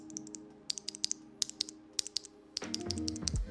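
A stock switch on a Wooting 60 HE keyboard's W key is pressed by hand close to a microphone, giving about a dozen crisp, separate clicks in an uneven rhythm over a low background hum.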